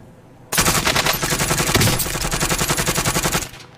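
Sustained rapid bursts of RPD light machine gun fire in the Call of Duty Warzone video game, loud and close, with the rhythmic shots running for about three seconds without talk.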